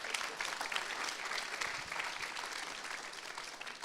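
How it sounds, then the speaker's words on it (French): Applause from an audience at an awards ceremony, steady dense clapping sustained throughout at moderate distance with no voices. "on peut applaudir"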